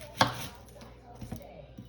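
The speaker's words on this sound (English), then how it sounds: "Chopping up an onion real quick." An onion being chopped with a knife on a cutting board, a few sharp, separate knocks spaced unevenly, close and fairly quiet, with no one speaking.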